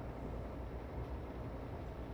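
Idling locomotive engine on the Great Western Main Line in a train simulator game, a low steady rumble with constant drone, faint and unbroken.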